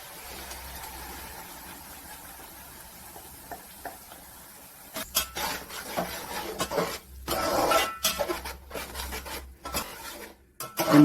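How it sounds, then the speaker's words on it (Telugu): Ground masala with onion and curry leaves fries in a pan for Andhra-style fish curry. A low sizzle builds into bursts of metal spoon scraping and stirring against the pan, close and irregular, with no talking. "ఈ మసాలా బాగా వేపుకోవాలండి."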